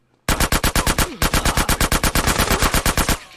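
Rapid automatic gunfire in GTA San Andreas Definitive Edition, a loud continuous burst of about thirty evenly spaced shots lasting around three seconds.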